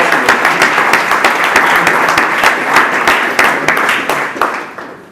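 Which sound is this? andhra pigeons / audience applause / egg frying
audience applause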